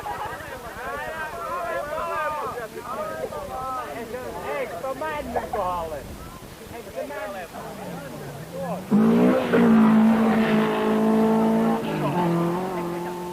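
A Ford Escort rally car revs hard over a gravel stage at the 1973 Jyskälä rally in Finland, its engine whining and surging loudly near the end after a stretch of commentary.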